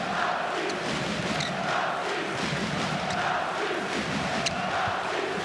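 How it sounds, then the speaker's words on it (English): Handball arena crowd in a large indoor hall chanting for a player during a placement match, a steady dense roar of many voices sustained throughout without a clear break. "The entire crowd is calling for Narcisse to be brought onto the court"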